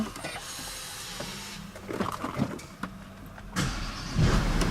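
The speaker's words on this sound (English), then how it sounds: "Start the car up before we take it outside" A Porsche Panamera engine cranks and turns over with uneven bursts and clatter, then catches and settles into a louder, steady rumble near the end.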